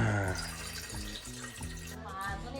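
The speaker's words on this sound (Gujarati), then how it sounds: "આ જગમાં ભરી લઈએ પાણી." Water runs from a tap into a jug in a home, a steady pour under strong harmonic music through most of the few seconds.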